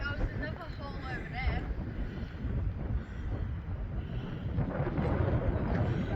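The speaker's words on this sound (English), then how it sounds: "That wind is freezing." Cold wind blowing in open wheatbelt country, a continuous rough buffeting roar across the microphone, with a voice speaking faintly underneath.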